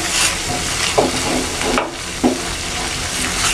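A spoon stirs peach jam cooking in a pot over medium heat, giving a steady bubbling sizzle with a few sharp scrapes against the pot.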